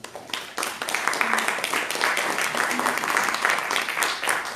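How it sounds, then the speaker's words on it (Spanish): A congregation at a church service applauds the home group, steady close clapping from many hands over a murmur of voices throughout. "Denle otro aplauso a los del hogar."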